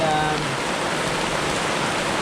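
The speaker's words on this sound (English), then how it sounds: "It's raining." Rain falling steadily on a roof in Vietnam, a dense, loud, even hiss of drops on the surface throughout.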